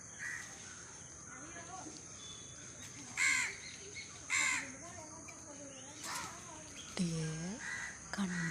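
Crow caws come in a few sharp bursts over steady background hiss, with soft talk in between.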